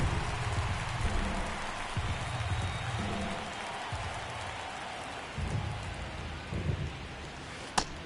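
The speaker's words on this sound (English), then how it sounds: "It feels like we might be headed towards a rain delay if the weather doesn't ease up, Chris." Steady rain falls on a baseball game in MLB The Show 23, Philadelphia Phillies against Cleveland Guardians, a continuous even hiss with a low rumble beneath it and a brief sharp tick near the end.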